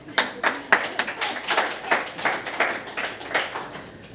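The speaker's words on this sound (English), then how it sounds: "And Danny, thanks for the preemptive clap." Audience clapping at a conference session comes through as sparse, distinct hand claps in an irregular rhythm, fairly close and moderately loud.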